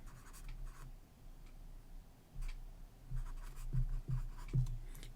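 Marker or chalk strokes on a board during an electrical circuits lecture, a run of faint scratchy taps and squeaks at close range over low room hum, with no talking.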